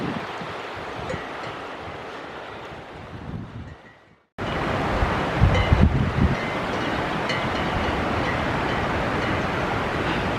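Strong wind roars across a microphone on a mountain hike in the Hautes-Pyrénées, a dense, continuous rushing that drops out briefly and then returns louder with heavy buffeting.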